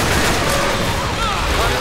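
Gunfire in the zombie shooter Left 4 Dead 2 on a custom map keeps up as a dense, continuous barrage of loud shots with a brief shouted voice in the mix.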